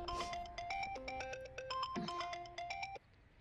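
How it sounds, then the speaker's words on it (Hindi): A phone ringtone sounds for an incoming call, a bright repeating electronic melody of short tonal notes, close and clear, playing steadily for about three seconds and then stopping abruptly. "किसका फोन आ गया?"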